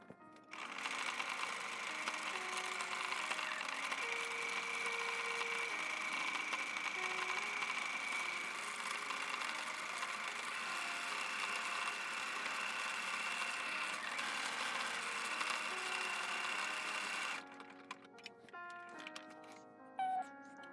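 A Singer Quantum Stylist 9960 sewing machine stitches an embroidered quilt label in a long, steady mechanical whir with rhythmic needle clatter. It runs loud and close for about seventeen seconds, then stops, leaving a few small clicks.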